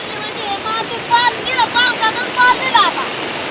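A constant rushing roar of the first heavy downpour of the season in the Konkan, at night, with short high-pitched calls popping up briefly over it.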